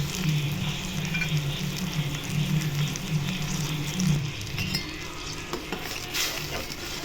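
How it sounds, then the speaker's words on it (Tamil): Spices stirred into an egg curry in a hot pan: continuous close frying sizzle with scraping spoon-against-pan strokes, steady and fairly loud throughout, no voices. "இதை நல்லா மிக்ஸ் பண்ணிடலாம்"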